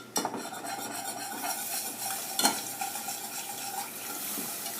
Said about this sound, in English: Stirring out the lumps